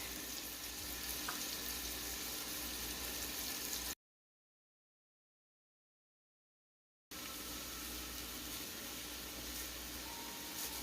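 A meat mixture with tomatoes and green chilies sizzles steadily in a pan while being stirred, a continuous soft frying hiss broken by a short gap of silence.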